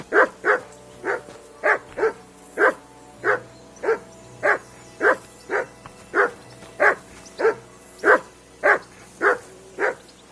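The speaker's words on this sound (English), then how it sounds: "I assume you can hear that damn dog." A dog barks persistently in a regular, insistent rhythm, roughly twenty sharp barks at close range with short pauses, clear and loud against quiet background.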